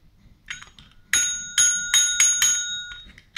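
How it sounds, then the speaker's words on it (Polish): A fairly heavy scoring bell on a board game's score board rings with several bright metallic dings in quick succession, each leaving a lingering ringing tone, heard alone without talk. "Zaraz zobaczymy, jak to nam robi ding."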